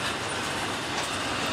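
A daily coke freight train from Curtis, Indiana rolls past on the rails, a loud, close, steady rumble with dense wheel clatter throughout and no voices.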